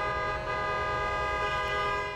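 Vehicle horns blare together in a sustained, overlapping chorus from a slow parade of cars jamming city streets at a protest rally, the tones holding steady at moderate distance.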